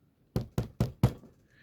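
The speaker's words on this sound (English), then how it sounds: "Then came a knock on the door." Four sharp, evenly spaced knocks on a door ring out close and clear, a crisp sound effect with no voices over it.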